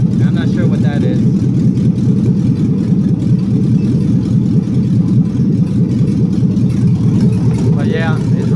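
A 6.2L L99 LS V8 idles steadily at about 600 RPM in a 1974 Chevrolet Nova on its first start-up, a loud, close, continuous low rumble with a brief voice heard over it near the end.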